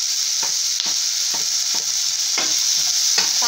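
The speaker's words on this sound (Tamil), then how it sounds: "தக்காளியும் லேசாக வதங்கட்டும்." Onion and tomato sauté in a pan for a kadalai curry, a steady close sizzle broken by regular scraping strokes of a stirring spoon roughly every half second, with no talking.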